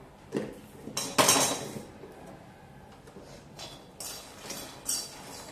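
Turmeric is stirred into an egg mixture in a pan for anda bhurji, heard as soft, scattered scrapes and light clinks of a utensil against the pan, fairly quiet and irregular.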